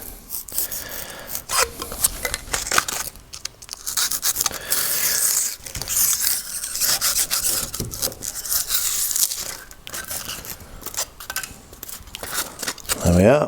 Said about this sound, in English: So I just need to cut that in half.